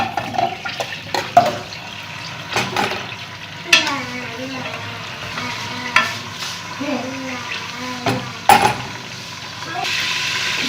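Pieces of meat sizzle and spatter in hot oil for an Algerian olive tajine, with steady frying broken by louder bursts as the pieces are stirred and turned close by.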